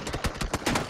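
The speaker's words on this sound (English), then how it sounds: "Oh, that's gunshots." Rapid gunfire from the battle royale game PUBG, about six sharp shots in quick succession within a second, fairly close and alone.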